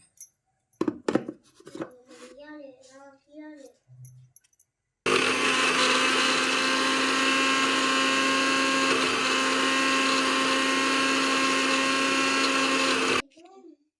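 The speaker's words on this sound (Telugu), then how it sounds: "ఇప్పుడు మిక్సీ మూత పెట్టేసేసి మెత్తగా పేస్ట్లా చేసుకుంటున్నాను" A mixer grinder grinds roasted cumin into a smooth paste, starting abruptly after a few seconds of talk and running as a loud, steady high whine for about eight seconds before cutting off.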